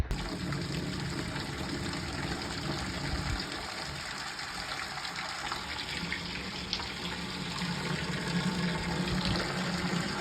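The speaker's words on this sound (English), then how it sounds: "let's turn the hose on" A steady stream of running water from a garden hose hisses and splashes for several seconds, the flow shifting slightly midway, with no one speaking.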